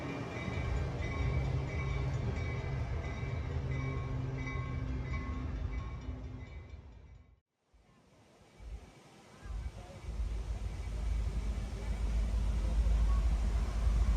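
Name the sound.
Lehigh Gorge Scenic Railway train arriving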